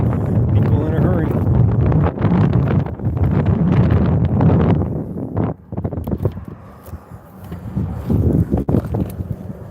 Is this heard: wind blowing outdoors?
yes